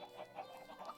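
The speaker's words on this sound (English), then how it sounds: "And I keep my chickens back here." Chickens cluck in a farming video game, a quiet run of short, rhythmic clucks repeating close by with no talk.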